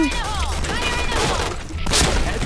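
Dense gunfire and explosion bursts rattle through a shooter video game, loud and close, while someone talks excitedly over the action.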